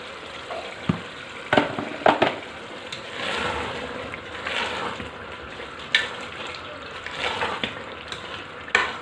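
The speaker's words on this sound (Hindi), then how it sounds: "1-2 मिनट और इसको भूनूंगी मैं" Chickpeas roasting with garam masala powder in an oily pan, a constant close sizzle broken by repeated scraping and stirring knocks as the spoon moves through the pan.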